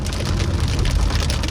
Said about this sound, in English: And it's raining cats and dogs now.